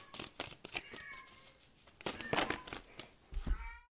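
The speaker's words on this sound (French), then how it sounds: "le chat a fini par sortir" A cat meows several times indoors, short rising and falling calls at moderate volume with small clicks and room noise between them, no talk over it.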